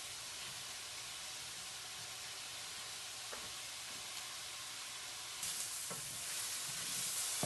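Mushrooms frying in olive oil in a pan, a steady loud sizzle and hiss throughout that swells near the end, with occasional faint stirring clicks.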